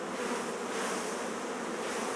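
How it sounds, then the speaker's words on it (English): Honeybees shaken off hive frames into the bottom box of a hive, a dense, continuous buzzing swarm hum that is close and steady with no voices over it. "Now we can shake all these bees"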